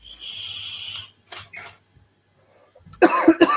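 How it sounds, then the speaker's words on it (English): A few harsh bursts of coughing close by, the loudest cluster coming near the end after a short quiet stretch. "I've not even vaped it yet and I'm already coughing"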